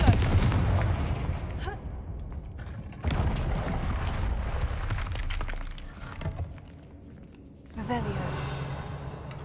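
Spell blasts from the Confringo fire curse in Hogwarts Legacy go off as loud, heavy explosive bursts in game combat. Sharp onsets are followed by rumbling decays, with a few separate impacts and continuous game noise between them.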